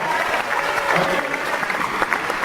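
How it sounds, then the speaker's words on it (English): A theater audience at a stand-up comedy show in Jerusalem claps in a dense, even burst of applause, loud and steady throughout the short stretch. "How many people here, by applause, had in the last month at least one really shitty day? Just by applause."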